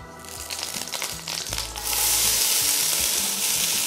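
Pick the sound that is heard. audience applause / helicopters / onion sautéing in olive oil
onion sautéing in olive oil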